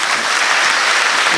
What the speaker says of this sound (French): Jordan Cazé, on peut l'applaudir très fort.